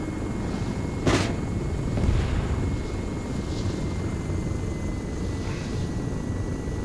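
An aircraft in ArmA 3 drones in flight during a steep dive-bomber-style rocket run, with a steady broadband engine and wind roar and a couple of brief swelling bursts.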